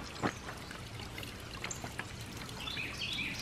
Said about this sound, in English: A little waterfall there.